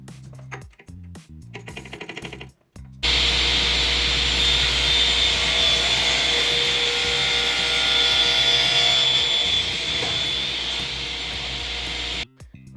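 After a few clicks and knocks, a radial arm saw spins up with a loud, steady whine that holds through a test cut for about nine seconds, then stops abruptly and leaves only faint handling sounds.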